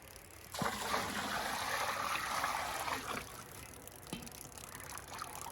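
Cold water pours from a bucket in a single sustained splash lasting a few seconds, fairly close, then drops to a quieter dribble with a couple of faint knocks.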